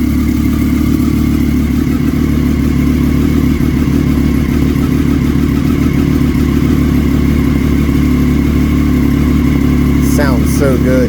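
A 2012 Triumph Daytona 675R sport motorcycle engine runs close and loud with a steady, dense idle rumble throughout, and a brief voice near the end.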